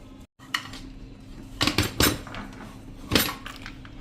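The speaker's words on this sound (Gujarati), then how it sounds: "આપણે આ રીતે એકદમ અધકચરી રહે ને એ રીતે આપણે પીસી લેશું" Red chilli chutney with lemon juice being coarsely ground by hand in a stone mortar or on a grinding stone, heard as sparse scraping and clinking strikes, a few louder knocks spaced irregularly over a quiet background with no talk.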